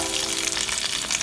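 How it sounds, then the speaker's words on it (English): Garlic and red onions sautéing over a low flame in a pan, a brief, dense, steady sizzle heard alone and fairly close. "Now that our garlic is nicely brown, we'll add some onions."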